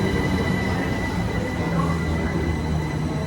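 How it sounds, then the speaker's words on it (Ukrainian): An electric driverless train runs through a London station, giving a steady loud roar of wheels on rails with a faint high squeal, continuous and close throughout, with no voices. "Ті поїзда електричні на електриці."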